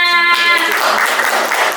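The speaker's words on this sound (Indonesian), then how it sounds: "Oke, tepuk tangannya." Audience in a classroom breaking into applause after a sustained musical tone, a brief burst of dense clapping close by that continues steadily to the end.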